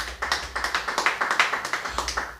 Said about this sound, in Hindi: उनके स्वागत के लिए आप तालियां बजाएं